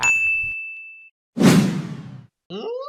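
A bright notification bell rings once at the start of a Free Fire gaming intro, its clear tone ringing out for about a second, followed by a loud whoosh and then a short rising electronic effect.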